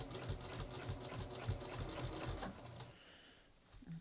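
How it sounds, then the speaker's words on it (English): A sewing machine back-tacking and then stitching along the edge of denim jeans being made into a skirt, giving a steady, close mechanical whir and rapid needle chatter that stops near the end. "I'm just going to back tack, and then I'm just going to stitch right along that edge."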